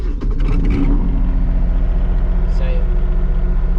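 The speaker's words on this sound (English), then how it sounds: "So this is the machine idling." A Terex PT30 compact track loader's diesel engine idles, a loud, steady low rumble throughout, with a brief rattling burst at the start.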